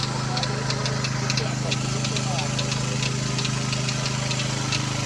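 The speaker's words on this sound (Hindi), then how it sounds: "ये पड़ा है हमारा जनरेटर" A generator engine idles steadily on a dairy farm, a loud, constant low drone with faint rhythmic knocking throughout.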